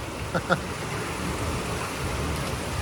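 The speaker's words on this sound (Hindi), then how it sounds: "यहाँ लगातार बारिश है ज़बरदस्त" Heavy, steady rain pours down in Dehradun as a broad continuous hiss, with a couple of brief knocks near the start and no talking.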